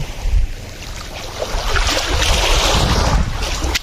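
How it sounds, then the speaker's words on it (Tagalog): Sea waves roll and wash near a boat in a windy seaside setting, with a steady rushing surge and wind buffeting the microphone throughout. "Ngayon may alon, oh."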